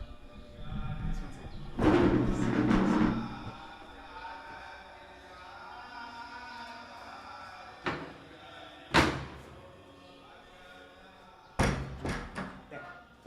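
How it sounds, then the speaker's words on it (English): A door is slammed shut in a room where loud kirtan chanting carries in from outside, giving a heavy thud near the start followed by a few sharper knocks and bumps later, with background chanting and voices throughout. "I'm going to shut my door because the kirtan's really loud"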